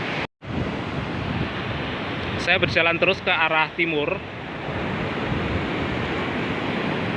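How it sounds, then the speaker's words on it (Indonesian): Ocean waves wash steadily over the feet of someone walking along a beach of mixed black and white sand at Dlodo Rejosari, a continuous close roar of surf with someone talking briefly through the middle. "sambil menikmati guyuran ombak ya yang mengenai kaki saya"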